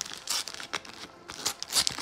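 Close, crisp crinkling and tearing of a small Panini sticker packet, in quick irregular bursts with no talking.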